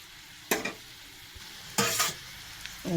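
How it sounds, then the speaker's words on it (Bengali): Puli pitha dumplings frying in oil, heard as a few separate scraping stirs and sizzle bursts spaced over a few seconds, close up but soft, with no talking. "এবার আমি এক এক করে, যে এগুলো বাকি আছে আর এগুলো এক এক করে আমি সব ভাজবো"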